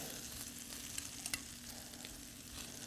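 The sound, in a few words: stirring squash, carrots and turnips with maple syrup in a pan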